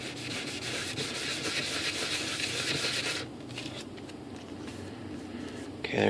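Steady scratchy sanding, close up, as abrasive rubs back and forth over a small hard plastic part of an Airbus A380 model, then it quiets briefly before a louder scrape.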